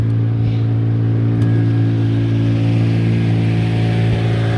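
A vehicle drives steadily on a long trip in Yakutia, giving a constant low engine drone with road rumble and no talking.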